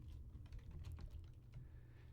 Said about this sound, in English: Help this blind, bumbling imbecile figure out how to type on a keyboard that moves slightly.